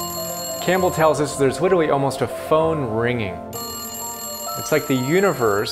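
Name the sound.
telephone ringing sound effect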